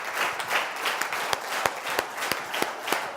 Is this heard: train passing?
no